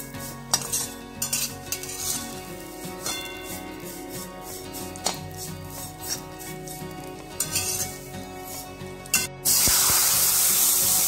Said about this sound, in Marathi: शेवया छान 2 मिनिट भाजून घ्यायच्या आहेत तुपामध्ये